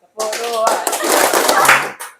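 A group claps a rhythmic "tepuk" pattern during a scouting-style cheer, a dense burst of sharp hand claps mixed with voices chanting along for about two seconds before stopping.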